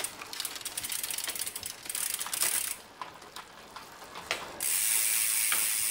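Loud, rapid clicking of a freewheel hub spinning on a Java Siluro carbon road bike, a steady close buzz of pawls that eases briefly then returns stronger, with no voices.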